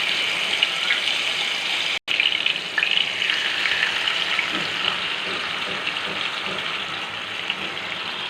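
Marinated tandoori chicken pieces fry in hot oil in a pan on a gas stove, giving a steady, loud hiss and crackle that runs throughout with a brief drop near the start.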